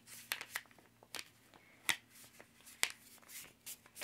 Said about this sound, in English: take it and fold it like a taco again.